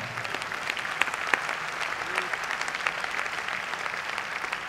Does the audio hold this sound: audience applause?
yes